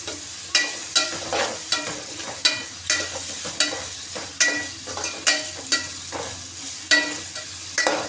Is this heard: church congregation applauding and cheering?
no